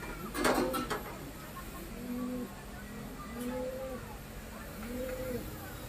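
Pigeons coo softly in a quiet outdoor setting, several low rounded coos spaced a second or so apart, with a brief clatter near the start and faint human sounds.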